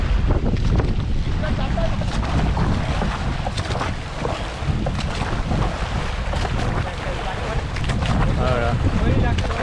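A fishing boat out on the deep sea off the Konkan coast, with a steady engine-and-water roar buffeted by heavy wind against the microphone throughout, loud and continuous.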